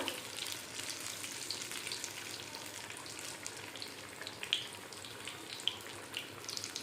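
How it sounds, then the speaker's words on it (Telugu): Onion and chilli bajji deep-frying in oil give a steady, fine sizzle that runs without a break, with a few soft pops and clicks as the fritters are turned. "ఆయిల్లో వేసుకున్నాం కదా ఇప్పుడు నేను ఇప్పుడు ఇలా తిరిగేస్తున్నాను చూడండి ఎంత అందంగా వస్తున్నాయో"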